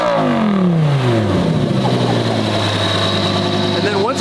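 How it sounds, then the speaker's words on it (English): A supercharged Lamborghini Huracan engine revs hard, its pitch sweeping down and settling into a steady loud drone with a whining overtone, close by and dominating the scene. "Dave, can you give it a rev?"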